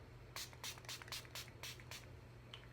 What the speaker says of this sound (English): just spray a few sprays on your face until you feel like you've done enough